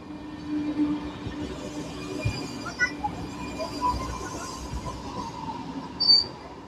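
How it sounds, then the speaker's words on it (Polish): A Pendolino train pulls out of a station with a faint rumble, light rail squeals and occasional clicks heard at a distance. "No i odjeżdża pendolino."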